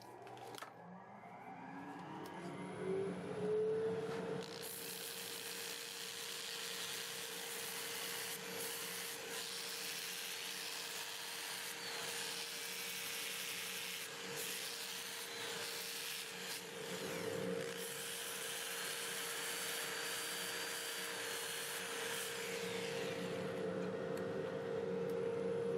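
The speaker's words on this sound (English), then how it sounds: "I'm going to start with 120 grit using my 2-inch disc on a pad on the drill motor." A 2-inch 120-grit disc on a drill sands a black walnut turning on a lathe running in reverse at about 350 rpm, a steady faint whirring hum with scratchy abrasive rubbing throughout.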